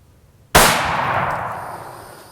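A single sharp rifle gunshot from a Hart rifle during a hog hunt in South Carolina, loud and close, with a long ringing decay trailing off.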